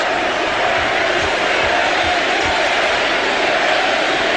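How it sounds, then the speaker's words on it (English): A deafening arena crowd roars without pause at an NBA playoff game in Sacramento, a dense, loud wall of cheering that holds steady throughout, with faint low thumps underneath. "This crowd tonight, as Barry hits the first, has simply been unbelievable. Deafening."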